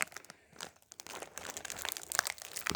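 A Dubai wafer's plastic wrapper is torn open by hand, giving close, crisp crinkling and crackling in quick irregular bursts with no talk.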